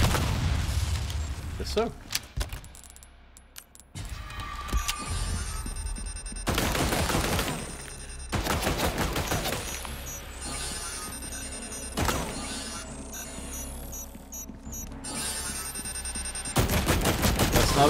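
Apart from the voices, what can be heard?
gunshots in the video game Resident Evil 4 Remake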